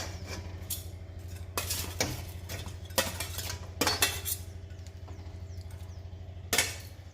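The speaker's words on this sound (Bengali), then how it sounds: "এবার আমি মাছগুলো দিয়ে দেবো ঝোলে।" Fish pieces being added to a simmering mustard curry with brinjal in a pan, with clinks and knocks of a utensil against the pot over a low bubbling background.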